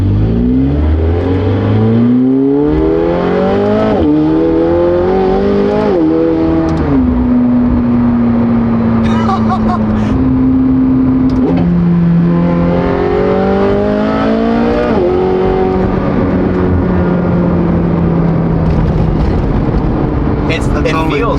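McLaren sports car driving on Texas roads, engine revving and accelerating through several gear changes, pitch rising then dropping at each shift, loud cabin drone with people talking over it.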